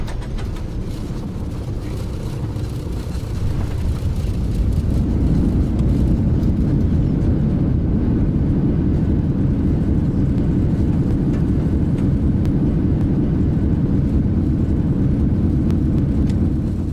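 A Jet2 Boeing 737-800 in a flight simulator touches down at Birmingham in a crosswind, steady engine roar giving way around four seconds in to a louder, sustained low rumble of wheels rolling along the runway, with no talking.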